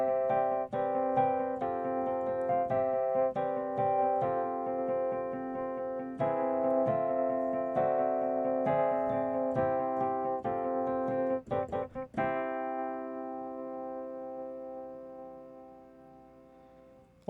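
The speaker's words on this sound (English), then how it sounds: "holding down this pedal point and making a sort of a rhythm out of it, and then improvising or playing the melody with the right hand" Keyboard playing in an 80s TV theme style, a repeated bass pedal point pulsing in a steady rhythm under an improvised right-hand melody, clear and close, ending on a sustained held chord.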